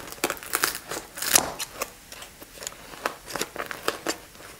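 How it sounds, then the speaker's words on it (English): Kitchen scissors snip through fresh homemade Afghan flatbread in a quick irregular series of close crisp cuts and crinkly crunches, with no talking. "the handy kitchen scissors are the best way to cut this bread."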